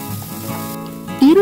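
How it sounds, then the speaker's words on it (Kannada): Chopped onions fry in oil in a kadai for a chicken gravy, giving a short, steady sizzle, with a brief voice sound near the end. "ಇದಕ್ಕೆ ದೊಡ್ಡದಾಗಿರುವಂಥ 2 ಈರುಳ್ಳಿನ ಈ ಥರ ಸಣ್ಣದಾಗಿ ಕಟ್ ಮಾಡಿಟ್ಕೊಂಡು 1 ನಿಮಿಷ ಫ್ರೈ ಮಾಡ್ಕೊಳ್ಳೋಣ"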